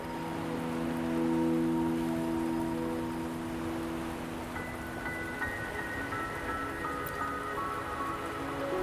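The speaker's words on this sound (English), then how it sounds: "Are you trapped here by the rain?" Continuous rain pours down in the video game Wuthering Waves, a dense, even hiss of drops on surfaces, joined by held musical notes that shift partway through.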